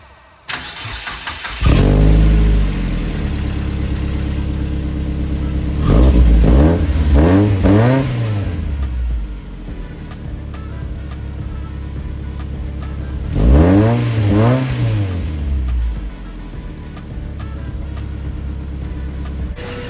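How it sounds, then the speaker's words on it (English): A Mazda MX-5 Miata fitted with a new muffler and intake starts up close by, then revs in three rising and falling bursts, settling to a steady idle between them. "First start up with the new muffler, with the intake. Let's see how it sounds."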